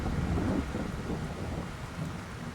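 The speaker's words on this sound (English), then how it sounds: "Plowing in the rain." Steady rain falls with a rumbling undertone while a harvester moves slowly through a field, a continuous dense hiss and low rumble filling the clip without talk.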